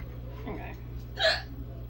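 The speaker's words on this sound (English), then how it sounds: "Oh goodness, you got the hiccups now?" A single sharp hiccup stands out clearly over a low steady hum, with faint murmuring just before it.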